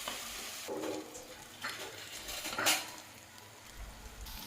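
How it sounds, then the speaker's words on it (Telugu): Ginger garlic paste fries in a pan while prawns fry is being cooked, giving a soft, steady sizzle with occasional stirring scrapes and one brief sharper clink, all fairly faint and close. "అల్లం వెల్లుల్లి పేస్ట్ పచ్చివాసన పోయేంత వరకు ఫ్రై చేసుకుంటే సరిపోతుంది"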